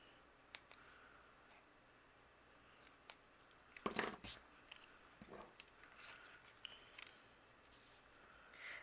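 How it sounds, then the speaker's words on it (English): Scissors snip fishtail notches into the ends of patterned paper strips for a 12x12 card project, giving faint, scattered close-up clicks and cuts with a brief cluster of louder snips midway. "take my scissors, and we're going to fishtail the end here on both of these"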